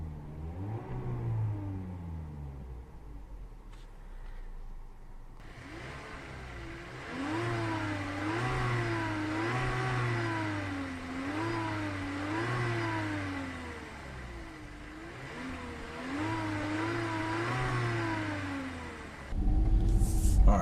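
A 2019 Volkswagen Jetta engine idles low, then revs up and down in repeated rising and falling sweeps, loud and close, with a brief quieter idle between bursts.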